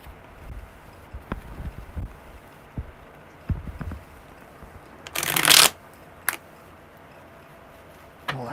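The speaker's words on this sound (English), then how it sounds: "Well, that was a really weird shuffle." Tarot cards are shuffled in a few quick riffles, with a louder bridge-like burst midway and light handling noises between, close up and no talking.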